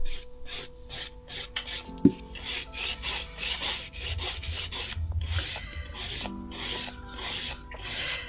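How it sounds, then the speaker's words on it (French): A nail file rasps steadily along an acrylic stiletto nail in long, even strokes, a close, dry scraping repeated in a regular rhythm with no voices. "Bien utiliser toute sa lime, hein, sur toute la longueur."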